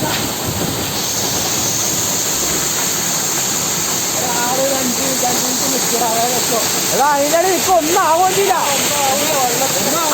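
A hidden waterfall gives off a loud, constant roar that fills the whole scene, and voices talk over it in the second half.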